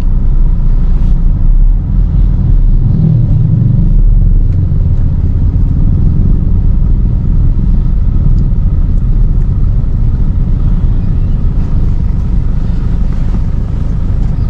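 A 2010 Toyota Innova V automatic with a 2500 cc diesel engine drives along, its steady low engine rumble and road noise continuous from inside the cabin, with no one talking.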